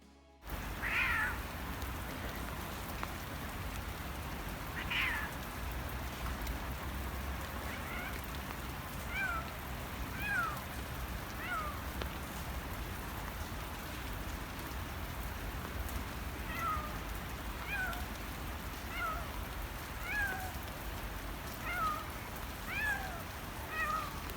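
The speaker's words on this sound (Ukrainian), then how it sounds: "я думала, що кішка застрягла на дереві" A Eurasian jay in a park gives a series of short, cat-like mewing calls, spaced out and at moderate distance, over steady background noise resembling light rain.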